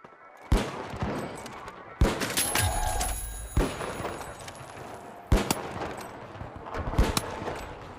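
Gunfire from the video game The Finals: several sharp, loud bursts of shots in irregular clusters, with a ringing electronic tone between volleys and no clear speech.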